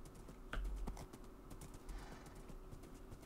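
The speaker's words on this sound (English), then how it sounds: "You get a horse because it is efficient transportation." Horse hooves clip-clop in Minecraft, a quick run of soft, fairly quiet hoof steps with a couple of sharper knocks near the start.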